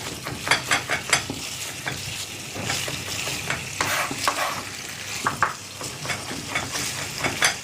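Food frying in a pan while being stirred, a steady sizzle punctuated by quick clusters of scraping and tapping strokes, close and clear with no voices.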